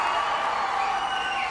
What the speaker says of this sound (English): Just as the crowd roars and supports its home team